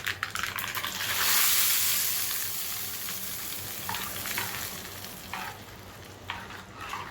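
Spice tempering for chutney sizzles steadily in hot oil with a loud, hissing crackle that gradually settles, scattered sharp pops and spatters breaking through near the end.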